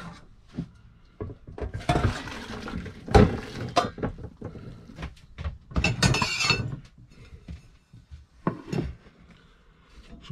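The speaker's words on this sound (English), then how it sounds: "Let's strain that off and place it up." Cooked spaghetti is strained and plated in a string of clattering knocks, clinks and splashy bursts of varied loudness, separated by short quiet gaps.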